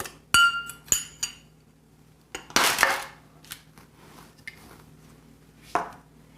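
Pieces of caramelized sugar clink and rattle into a glass bowl in a few sharp bursts, including one louder cascade, with quieter taps and pauses between them.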